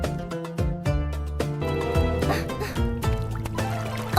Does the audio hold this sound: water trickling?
yes